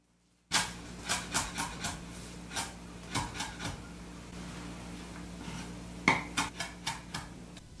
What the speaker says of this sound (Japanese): 葉っぱを取って粗みじん切りにします。